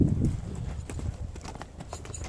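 Hooves of a horse trained for kok-boru goat-carcass games clip-clop on the ground nearby, a quick uneven run of muffled thuds heard alone at a fairly low level.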